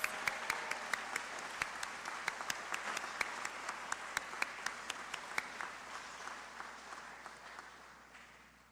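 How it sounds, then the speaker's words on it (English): Audience applause at a student art competition awards ceremony honoring elementary school category winners: a dense, steady round of clapping with sharp individual claps standing out, gradually fading toward the end. "Let's have one more big round of applause for our elementary school age category winners"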